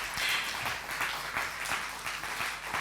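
A student journalist festival audience on a Congolese TV show breaks into loud, sustained applause, a dense crowd of hand claps with a faint rhythmic pulse of emphatic claps running through it.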